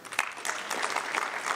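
Applause from the audience at the FANAF 2019 annual general assembly, approving a motion: a brief, steady round of clapping from a moderate-sized crowd, fairly close and without voices.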